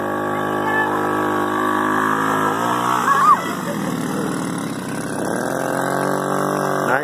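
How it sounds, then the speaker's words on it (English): A 1986 Suzuki LT50 four-wheeler ATV runs close by with a steady, buzzy small-engine drone that rises and falls briefly mid-clip, loud and continuous. "Finally got the four-wheeler going."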